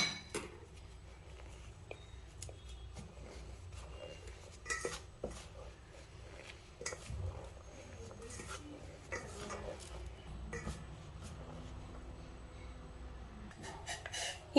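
Coriander, curry leaves and green chilli tossed and mixed in a bowl, with steady light clinks and scrapes of a spoon against the dish throughout, close and fairly quiet.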